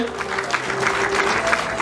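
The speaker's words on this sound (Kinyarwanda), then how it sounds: "amashyi menshi cyane" Wedding guests applauding, a continuous crowd applause with a voice talking over it throughout.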